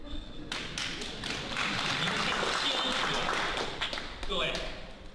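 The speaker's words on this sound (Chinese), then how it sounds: "哎呦，鼓掌。" Applause from a live audience at a Chinese crosstalk comedy show, a sustained burst of clapping with a few louder claps near the end, and voices underneath.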